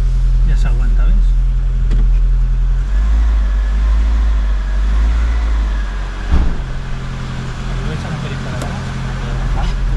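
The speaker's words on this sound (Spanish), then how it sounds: "y se aguanta ya el ralentí" A classic car engine idles steadily, a low, constant rumble that stays even throughout while people talk over it nearby.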